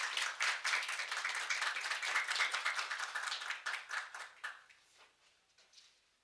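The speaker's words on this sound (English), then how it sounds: "Please join me in giving her a big round of warm applause" Audience applause at the start of a climate and environment forum conference session: a burst of many hands clapping that holds steady, then thins into scattered individual claps and fades out over the last two seconds.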